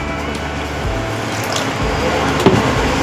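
Water is poured over clams in a pressure cooker. A close, steady filling gurgle with a few drips and squishy splashes continues throughout.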